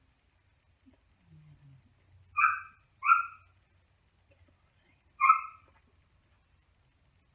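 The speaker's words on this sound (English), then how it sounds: "my puppy now wanting out" A puppy wanting to be let out gives three short, sharp barks or yelps with pauses between them, moderately close. There is a faint low whine beforehand, and a single spoken word can be heard.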